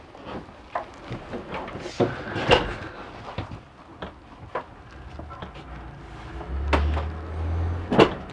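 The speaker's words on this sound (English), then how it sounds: "Those storage doors open up." Storage cupboard doors in the bathroom of a 2012 Keystone Bullet Premier 19FBPR travel trailer open and close with a series of close, sharp clicks, thumps and latch knocks spread irregularly across several seconds.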